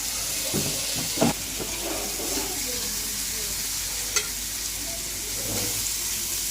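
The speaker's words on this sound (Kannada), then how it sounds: "ಫಿಶ್ ತವಾ ಫ್ರೈ ಇವತ್ತು." Fish frying on a tawa, a continuous close hiss and sizzle broken by a few sharp spatters and scraping stirs.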